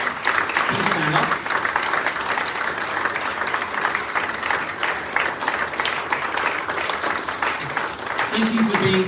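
Audience at the Consensus Awards ceremony applauding the judges: sustained, fairly loud clapping throughout, with brief spoken voices and murmurs surfacing over it.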